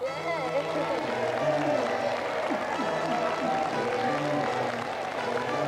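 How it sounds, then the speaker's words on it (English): A studio audience on a TV game show applauds steadily throughout, a dense wash of clapping with voices and music-like tones mixed in underneath. "So let's another round of applause for our two special guests, Vicky Taylor and Donna here."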